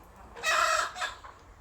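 A single short rooster crow rings out nearby, loud and clear against a quiet background.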